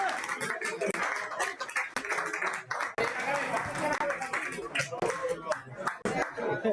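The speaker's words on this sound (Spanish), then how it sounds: "Y un fuerte aplauso para el Club Nauga." An audience claps for the Club Nauga at a Galician club spearfishing championship, a dense run of hand claps with speech over it through much of the stretch.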